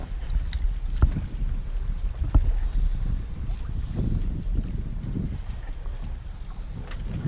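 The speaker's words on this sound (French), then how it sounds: "on avance toujours à la voile, donc là on est grand largue, on marche à 2 nœuds 8, 3 nœuds" A sailboat runs broad reaching under sail at about three knots in cold easterly wind, with steady wind buffeting the microphone, low water rush along the hull and a few sharp knocks. No one speaks.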